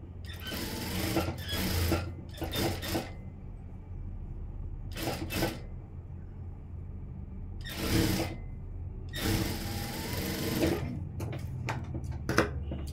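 A sewing machine stitching a blouse, running in several short, loud bursts of rapid mechanical whirring separated by quiet pauses, with no talking.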